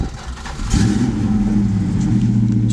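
A 1966 Dodge Charger with a 440 Wedge V8, a mild cam and Flowmaster exhaust cranks briefly, then fires up and settles into a loud, deep, lumpy idle close by.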